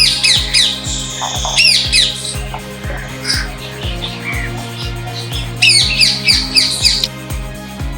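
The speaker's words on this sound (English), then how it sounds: "Hummingbird." A hummingbird gives repeated high, sharp squeaky chirps in quick bursts, loud and close, over a rhythmic thumping music beat.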